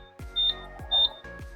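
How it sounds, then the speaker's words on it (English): A Buzzaround EX Extreme GB148 mobility scooter gives two short high electronic beeps between a few low knocking thumps as the key is turned on, close and clear, with no voices. "It beeps 5 times"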